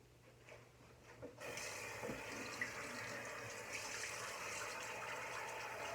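Water runs from a bathroom sink tap while a face is washed, starting quietly then gushing steadily and close after a second, a continuous splashing flow with no talk.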